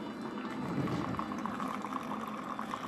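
Coffee pours from a machine in two streams into a cup, a steady bubbling, liquid rush with no break, close and fairly loud throughout.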